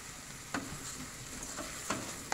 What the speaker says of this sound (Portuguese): Dá mais uma refogada.